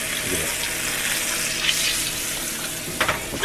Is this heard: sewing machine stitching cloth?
no